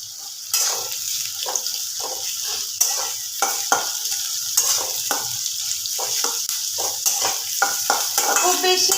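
Chopped onion sizzling in a pan for a chicken gravy, a steady frying hiss broken by repeated scraping strokes of a spatula stirring close by.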